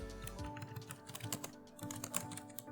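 Rapid typing on a computer keyboard while entering a website project description, a close, busy patter of keystrokes with irregular bursts and brief pauses, no talking.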